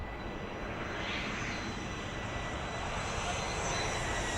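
A large airplane roars continuously at a busy Caribbean island airport with a short runway near a beach. The engine noise is loud and broad and stays steady throughout.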